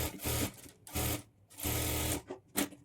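A sewing machine stitches along a folded half-inch edge of a blouse sleeve in three or four steady bursts, separated by brief pauses, close and loud with no talking.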